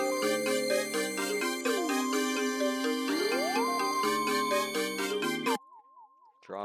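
Trap beat melody with a synth lead, dense layered chords and bell-like tones with a lead gliding up and down, playing steadily before cutting off near the end to a faint sliding tail.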